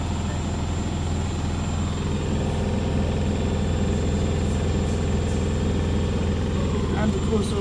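A Beko or Hoover washer-dryer drum spinning at 7,300 RPM gives a loud, steady mechanical drone with a rumbling hum that holds constant throughout.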